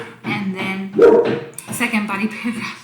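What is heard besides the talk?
dog barking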